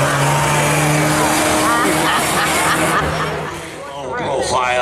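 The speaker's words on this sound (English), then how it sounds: "That is quite the burnout." Loud pickup truck burnout at a Beech Ridge drag race, a steady roaring engine with tire noise filling the whole stretch, dipping briefly near the end, while spectators chatter nearby.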